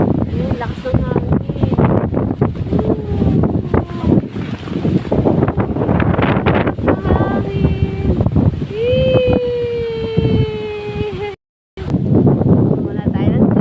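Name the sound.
strong wind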